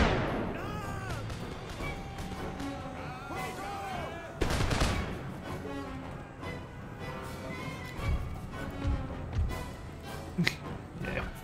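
Musket volleys crack out in the Napoleonic-era strategy game Empire Total War, sharp overlapping gunshots and a ragged fusillade over a din of battle, with music and distant shouting underneath.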